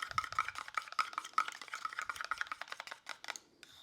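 Gel-like wood wax is stirred in a can, giving a quick series of close, light tapping and scraping strokes that fade out near the end.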